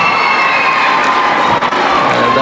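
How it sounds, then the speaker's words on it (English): Spectators at a netball match cheer and clap in a loud, continuous wash of crowd noise that stays dense and even throughout. "And they applaud"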